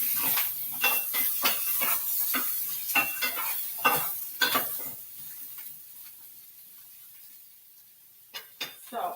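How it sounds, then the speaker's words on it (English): Chopped onions, peppers and mushrooms hit a hot pan with sharp bursts of sizzle and scraping stirs, then settle to a quieter hiss before more spatters return near the end; close by, no speech. "In go our vegetables that we pre-chopped earlier. Onions and peppers and mushrooms."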